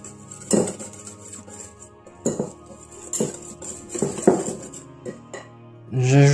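Bûche de Noël cake batter is mixed in a bowl, with a utensil scraping and clinking against the sides in irregular bursts, close and fairly clear, ending in a louder thud.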